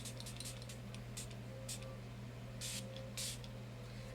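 A pink bottle of Catrice Prime and Fine face spray gives two short, soft misting bursts, close but quiet over a low steady room hum.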